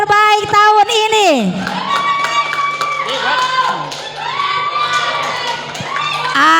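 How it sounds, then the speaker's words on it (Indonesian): Crowd of children and adults cheering, shouting and clapping in a lively burst at a Quran school (TKA/TPA) ceremony honouring the two best students, with a sung or chanted vocal line fading at the start and steady applause throughout. "Tepuk tangan buat santri terbaik tahun ini."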